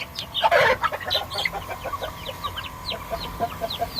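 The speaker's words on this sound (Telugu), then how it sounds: "ఈ కోళ్ళు భయపడుతున్నాయి." Frightened chickens in a poultry shed give a run of rapid, anxious clucks and squawks, with one loud burst near the start followed by steady nervous clucking close by.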